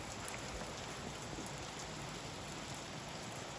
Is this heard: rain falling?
yes